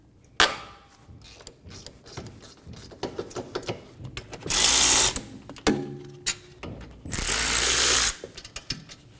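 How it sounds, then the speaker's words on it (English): Ratchet with a 14mm socket on Subaru Forester caliper bracket bolts, close clicking ratchet strokes and clanks, including two longer buzzing bursts of rapid ratcheting. "Using a 14mm socket, we're going to remove the 2 caliper bracket bolts."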